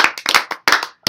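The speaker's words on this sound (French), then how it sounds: "on donne l'applaudissement" A few people clap hands in short, uneven bursts with brief gaps between them, close by and crisp, during a visit to a robotics company in Lyon.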